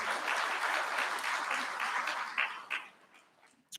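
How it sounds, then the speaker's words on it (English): Audience applause at a city State of the City address, a dense wash of clapping that thins and fades toward the end, with a few last isolated claps. "Give them a round of applause."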